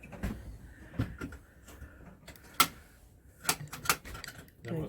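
Cabinet doors in an RV kitchen knock and click open and shut several times, with sharp clacks near the middle and end, while people move about and speak quietly nearby.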